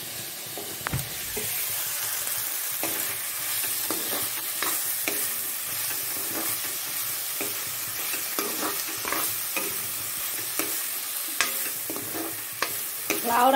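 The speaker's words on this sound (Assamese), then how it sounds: "এইখিনি ভাজি ল'লোঁ।" Food with a little chili powder is stir-fried in a pan, with a close, steady sizzle and hiss and frequent scraping strokes of a spatula throughout.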